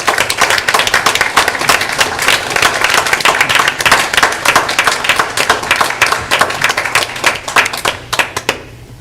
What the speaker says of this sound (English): One last round of applause for our student representatives.